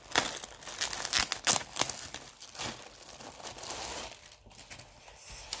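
Plastic packaging crinkles and tears as a newly received pencil case is unwrapped, a close series of crisp rustles and rips with brief pauses in between.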